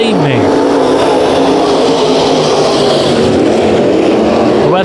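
Modified race cars roar around Bakersfield Speedway on a hot evening, a loud continuous wall of engine noise with revving and passing cars, one engine sweeping in pitch as it goes by.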